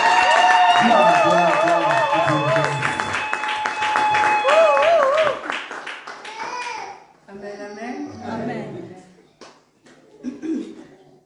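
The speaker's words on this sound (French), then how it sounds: "Est-ce qu'on peut acclamer le Seigneur?" A church congregation claps and cheers for the Lord, applause and scattered shouts rising over singing and voices, loud and close at first, then thinning into chatter and a voice.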